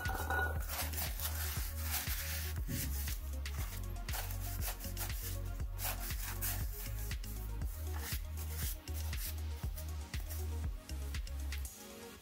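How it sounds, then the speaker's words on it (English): Clean rag soaked in brake parts cleaner scrubbing old grease and clutch debris off a K24 swap transmission input shaft, a rapid rhythmic rubbing and scraping close up, with no voices. "I'm using brake parts cleaner with a clean rag to clean off any old grease and old clutch debris from the input shaft."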